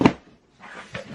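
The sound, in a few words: Christian Dior box being pulled out of a snug bag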